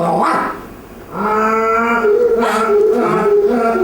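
A dog makes odd, braying, donkey-like calls: a short cry at the start, then a long drawn-out wavering bray with strong harmonics filling the rest, loud and close.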